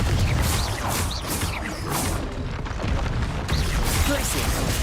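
Confringo spell blasts in Hogwarts Legacy, a run of loud bursts and whooshing impacts over a continuous rumbling game soundscape, with several sharp peaks spread across the span.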